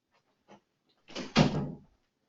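A door swings shut with a short creak and a firm thud, preceded by a faint soft knock, in an otherwise quiet room.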